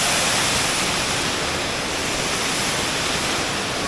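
Spring water pouring out from beneath a balete tree in Valencia, Bohol, a steady, loud broadband rush like a small waterfall, continuous and close with no voices.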